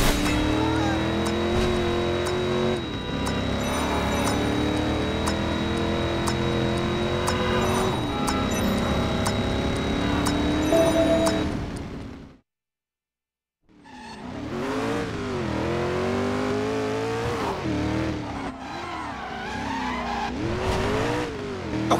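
A car in Driver San Francisco roars and revs as it drives hard, its tires squealing through repeated skids. The engine sound cuts out briefly, then returns with wavering revs and more skidding, while voices talk over it.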